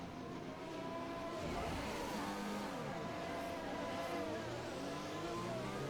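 Formula 1 car spinning out at turn 7 of the Bahrain Grand Prix in the F1 2020 racing game, a steady loud engine roar with shifting revs and tyre noise throughout, alongside other cars.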